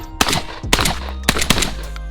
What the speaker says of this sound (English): On a semi-auto, I just keep pulling the trigger until the gun stops firing.